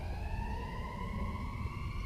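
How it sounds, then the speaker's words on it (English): An ambulance or fire truck siren wails steadily as the emergency vehicle passes outdoors, its rising tone loud and continuous over a low rumble of traffic throughout. "sorry about the ambulance going by, or the fire truck"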